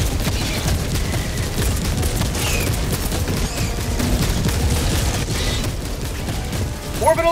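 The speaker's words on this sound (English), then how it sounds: "Firing orbital barrage. Clear the area." Orbital barrage strikes in the Helldivers 2 video game, a dense, continuous rumble of explosions and gunfire-like booms rolling on throughout, loud and close, with a voice heard near the end.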